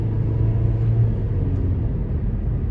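Low, steady cabin drone of a 2024 Nissan Versa SR with a 1.6-liter naturally aspirated four-cylinder while driving, an even muffled rumble with a faint engine hum and no voices.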